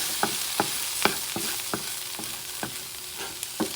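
Egg and vegetables are stir-fried for chicken cauliflower fried rice. Regular spatula strikes on the pan, about two or three a second, land over a bright, continuous sizzle.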